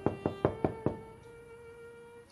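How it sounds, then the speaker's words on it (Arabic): Someone knocks on a door five times in a quick, even rhythm, each rap crisp and close, followed by a quiet stretch with a faint tonal hum. "شكون هادي يدق علينا حنا في هذا الوقت"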